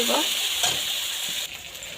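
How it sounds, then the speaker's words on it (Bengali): Chili powder is stirred into spices sautéing in a frying pan, giving a steady sizzle with soft scraping strokes throughout, close and moderately loud, with a slight drop in level near the end. "লঙ্কা গুঁড়ো দিয়ে দিব। একটুখানি কষিয়ে নেব।"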